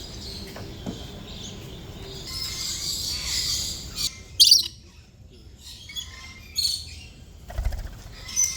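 Parrots and other birds in a bird park in Kuala Lumpur, with scattered sharp calls and chirps over a steady background of insects and distant bird chatter, a few louder squawks standing out near and brief.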